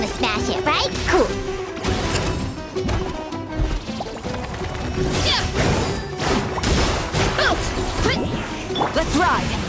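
A statue is smashed in the Genshin Impact video game, giving repeated crashing, whacking impacts and whooshes layered over busy game music and effects throughout.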